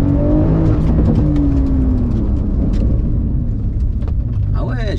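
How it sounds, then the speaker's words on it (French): A Porsche 911 (992) Carrera 4S engine with a Stage 2 remap burbles loudly as it decelerates, with a low rumble and a few crackles near the end. "Même à la décélération, on a un bruit qui est sympa là."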